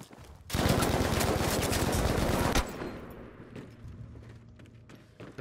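Gunfire in the shooter Battlefield V during the Firestorm siege of Odenham, a loud sustained automatic burst of rapid shots for about two seconds, cutting off into quieter rumbling and scattered distant shots.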